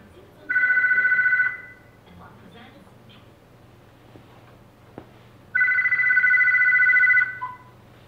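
A telephone rings in two long electronic trills separated by a pause of a few seconds, loud and close, with a quiet room murmur in between.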